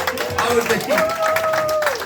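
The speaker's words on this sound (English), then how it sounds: "Give a round of applause" An audience at a stand-up comedy session applauds a comedian, clapping and crowd noise running under a prominent sung or shouted voice across the whole stretch.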